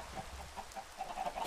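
Chickens cluck softly in a video game chicken farm, a string of quiet, rapid clucks over a hushed, steady backdrop with no talking.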